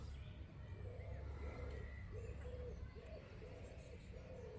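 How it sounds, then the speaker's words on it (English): A one-legged pigeon cooing in a seaside park, soft repeated low coos in a steady rhythm, faint and somewhat distant over a constant outdoor hiss. "The one-legged pigeon looks on in dismay."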